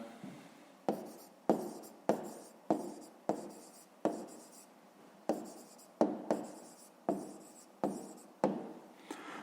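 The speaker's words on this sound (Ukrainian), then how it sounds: "Ну, а зараз тоді записуємо відповідь." Pen or pencil writing an answer on paper for a fifth-grade math exercise: about a dozen close, evenly spaced scratchy strokes, each starting sharply and then fading, with no talk.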